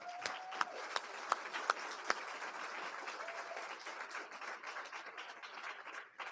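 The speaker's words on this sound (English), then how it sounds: "So maybe clap on that." An audience at an arts awards event claps, a few sharp loud claps standing out early over a steadier, moderate spread of applause that gradually thins toward the end.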